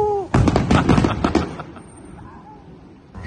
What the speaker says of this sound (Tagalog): May putukan pala.